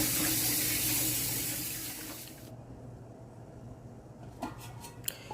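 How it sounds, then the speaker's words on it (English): Tap water runs in a loud steady rush for a couple of seconds while rinsing a whole chicken, then stops, leaving a quieter background with a few faint clinks. "So with running water."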